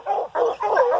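A coonhound out hunting in the rain gives three close, loud bawling barks in quick succession, each one drawn out and mournful.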